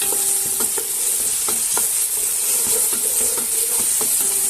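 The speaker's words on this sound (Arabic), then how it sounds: "أظل استمر أحمس في البصل إلى أن يعطيني اللون الذهبي" Onions frying in a pan while being stirred toward golden, a steady loud sizzle and hiss with scattered scraping taps of a utensil, no voices.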